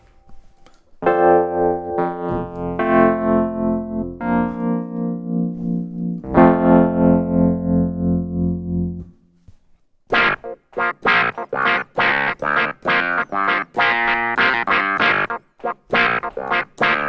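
A Yamaha CK61/88 clavinet voice pushed through distortion and velocity-responsive auto wah: first sustained, gritty chords for about nine seconds, then a brief pause and a run of choppy, staccato funky stabs, loud and alone.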